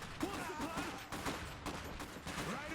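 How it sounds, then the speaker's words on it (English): Enemy gunfire in the Iron Harvest strategy game, a steady crackle of overlapping shots in bursts throughout, fairly loud, with no talking. "They're shooting at us."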